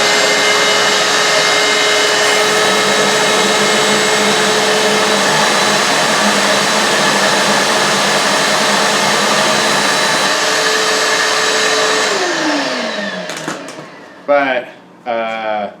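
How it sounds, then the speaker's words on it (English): A dust collector vacuum attached to a plunge router runs loudly and steadily for about twelve seconds, then winds down and stops, with a few brief bursts of other sound at the end. "let's turn the vacuum on"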